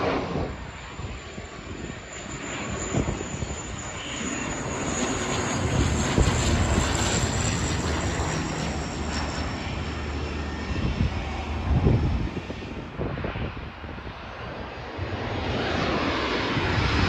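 A jet airliner landing at Sydney Airport, its broadband engine roar holding steady and loud for the whole stretch with a slight swell midway, no voices over it.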